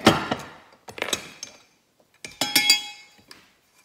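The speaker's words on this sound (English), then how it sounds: "Set it in the arbor press." Sharp metallic clinks and taps as a rivet nut is set in an arbor press, several short ringing hits in small clusters with quiet gaps between, close and bright.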